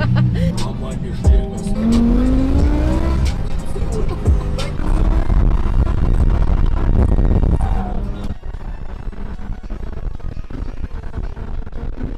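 A BMW M5 V10 drifting in a field roars loudly with rising and falling engine revs and squealing tires, close and sustained, easing into a lower, rougher rumble toward the end.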